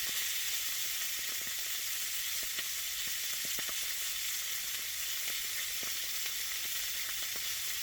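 Lamb sizzling and frying in hot oil, a steady loud crackling hiss with scattered pops and spits, close up and continuous with no talking.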